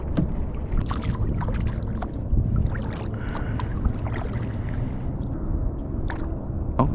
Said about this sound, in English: You can see the wind just started picking up and got a decent breeze fighting against this.